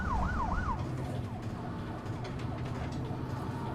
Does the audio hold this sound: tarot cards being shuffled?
no